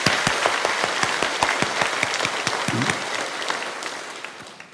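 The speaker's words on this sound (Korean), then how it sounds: "부활하신 주님께 영광의 박수 올려드리겠습니다" A church congregation applauds in praise during an Easter Sunday service, a steady dense wash of clapping with sharp individual claps standing out, close and sustained throughout.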